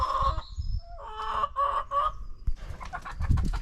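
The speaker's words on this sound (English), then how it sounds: "I like my chickens off the ground" Chickens, including a big white hen, cluck in short bursts close by, with a few rooster-like calls mixed in, outdoors on a property with no talking.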